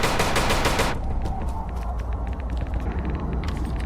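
Rapid bursts of dull, muffled gunfire crackle in quick succession, a dense volley at first and then scattered sharp shots continuing.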